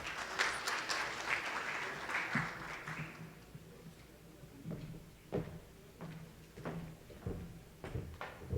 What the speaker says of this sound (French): Bien sûr, sous vos applaudissements.